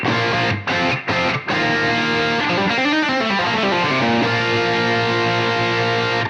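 Heavily distorted electric guitar rings out with sustained, saturated notes after a few short muted strums, played alone.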